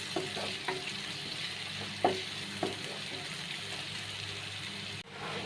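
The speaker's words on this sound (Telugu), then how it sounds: "పేస్ట్ని ఎర్రగా మగ్గించాలండి తాలింపుతో పాటు." Ginger garlic paste frying in a tempering with curry leaves in a pan, giving a steady low sizzle with a few soft stirring clinks and scrapes, close by, no voices.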